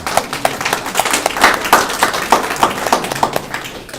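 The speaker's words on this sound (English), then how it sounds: "I love getting a round of applause before." Applause from an audience at a general membership meeting, a moderately loud, close burst of clapping with uneven rhythmic peaks that tapers off toward the end.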